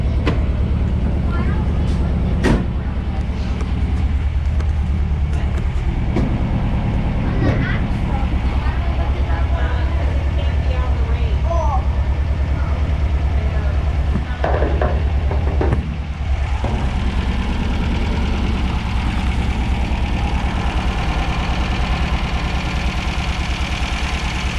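A 1970s-era MGB running under its own power for the first time in over ten years, its engine a steady loud drone throughout while the car moves, with occasional knocks and bumps and people talking over it.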